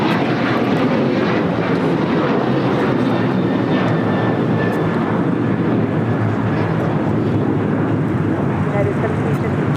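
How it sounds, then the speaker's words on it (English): A United Airlines Boeing 737-900ER jet takes off at LAX, its engines making a continuous heavy roar with a faint high whine, sustained loud throughout while someone talks over it. "This is a new flight taking off to Tulum, Mexico on a 737-900 ER."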